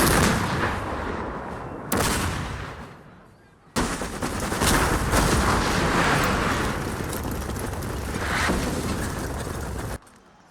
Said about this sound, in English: Napoleon's guns were amassed into his signature Grand Batteries, aiming to mitigate the superiority of Russian firing positions.